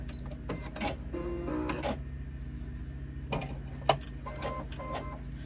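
A sewing machine doing free-motion quilting stitches a spiral, giving a steady close mechanical hum with rapid needle chatter and a few sharp clicks and knocks as the fabric is guided.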